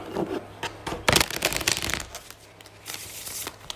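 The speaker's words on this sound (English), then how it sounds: "I'm going to go ahead and shuffle live as always" Tarot cards are shuffled by hand up close in quick riffles and soft slaps, bursts of papery flutter between short pauses.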